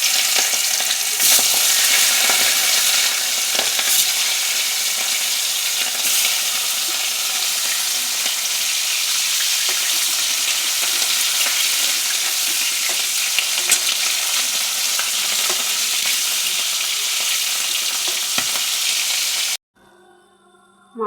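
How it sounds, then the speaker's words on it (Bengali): Hilsa fish pieces rubbed with salt and turmeric frying in hot oil, making a loud, dense and continuous sizzle up close with occasional spatula stirs, then cutting off abruptly near the end. "তেল গরম হয়ে গেছে, এবার মাছগুলো ভেজে নেব।"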